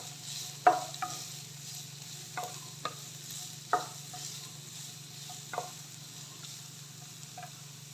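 Finely chopped onions being sautéed in a pan: a quiet, soft sizzle broken by a series of sharp spatula scrapes and taps at irregular intervals, over a low steady hum, with no voices.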